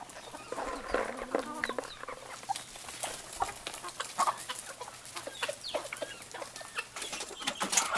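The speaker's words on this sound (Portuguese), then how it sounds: "eu vou tentar mostrar aqui pra vocês os franguinhos, porque ele já tá tudo misturado aqui com as galinhas já mais grandes" Young chickens and larger hens cluck and chatter together in a farmyard, a dense, continuous flock noise close by with scattered sharper calls and no speech.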